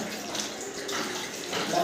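Cold running water splashes steadily over Alphonso mangoes being rinsed, with a brief tap-like gush and no clear talking.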